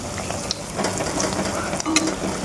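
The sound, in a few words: malpua frying in hot oil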